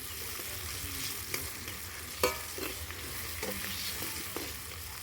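Sliced onions frying in oil in a pan while a spoon stirs them, a continuous soft sizzle broken by occasional clinks and scrapes, including one sharp knock near the middle.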